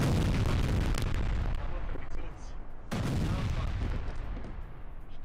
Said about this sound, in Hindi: 100 टन विस्फोटक के साथ ये बड़ा धमाका किया गया है